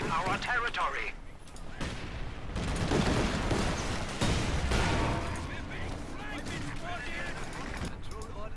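Heavy gunfire and booming blasts from a World War II style strategy video game rattle and thud in dense bursts, loud and continuous, with a voice talking over the battle.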